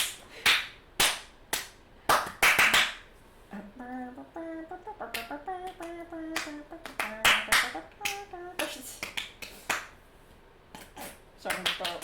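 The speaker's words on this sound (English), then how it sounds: "you hear like the typical like clapping noise, like a stock sound clapping noise" Sharp bursts of hand clapping, like a stock applause sound effect, come in quick clusters and single cracks across the stretch, with people talking in between.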